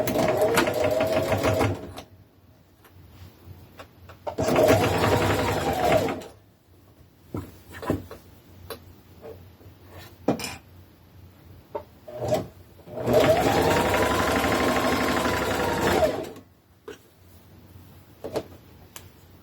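Sewing machine hemming around the edge of a men's shirt, running in three loud, steady bursts of stitching separated by quieter pauses with handling noises, close by.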